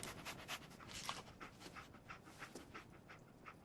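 Dogmeat, the canine companion in Fallout 4, pants quickly and steadily at close range, a continuous breathy rhythm with no talk over it.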